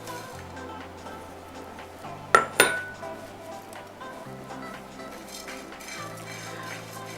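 A spoon stirs oats in a pan, with soft scraping and two sharp metallic clinks midway over a low steady hum of kitchen background, close and fairly quiet.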